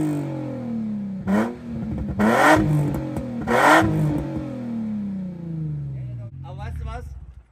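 Nissan 3.5-litre V6 engine revving hard in several loud bursts, the pitch climbing and falling between blips over a steady idle, with a few sharp crackles near the end.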